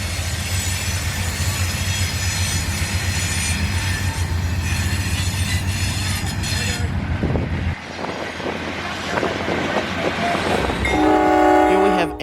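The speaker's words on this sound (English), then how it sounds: "Here we have Amtrak 58" Amtrak train 58 rolls loudly past at close range with steady rumbling wheels and a horn; near the end the passing fades and sharp wheel squeals ring out.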